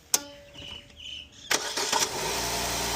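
Chevrolet Nexia 3 automatic car cranking with a sharp click, then catching and firing into a steady, close idle hum.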